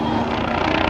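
A Red Bull aerobatic helicopter flown in a vertical climb, hover and roll at an air show, its rotor and engine roaring loud and steady with a dense throbbing drone.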